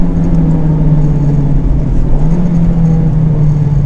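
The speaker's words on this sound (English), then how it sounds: "Try it on a couple of downshifts here." Honda Civic Type R engine fitted with a short-throw Acuity Stage 3 shifter, running through manual downshifts. It gives a steady, loud, low drone with a strong tonal hum throughout and no sharp rev blips, heard alone.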